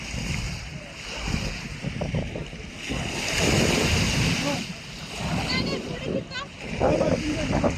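Ocean waves roll in at a beach in Dubai, a broad surging wash that swells and recedes over gusty wind noise, with people talking nearby.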